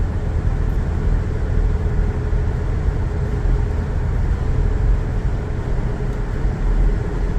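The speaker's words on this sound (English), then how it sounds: "As we come into the corner and slide out." A Ford Raptor sliding out through a corner on a snowy road, heard as a loud, steady rumble of engine and tyre noise that holds from start to finish with no talking.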